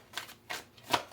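Black-Hearted Oracle deck cards being shuffled by hand, soft papery riffles and slides in quick bursts, quiet and close with no talking.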